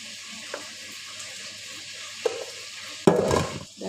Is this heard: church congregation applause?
no